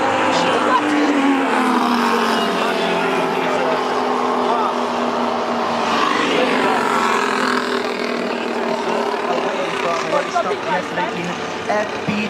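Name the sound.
Formula 1 cars racing through the Ascari section at Monza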